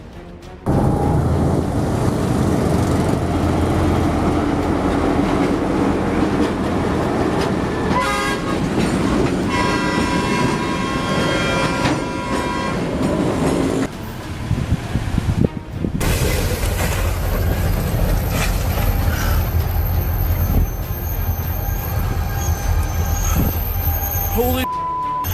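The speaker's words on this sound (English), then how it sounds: "A freight train carrying palm oil passes directly through a crowded market in Indonesia" A freight train carrying palm oil rumbles directly through a crowded market in Indonesia, close by with clattering wheels and a loud horn, while voices and crowd bustle sound around it.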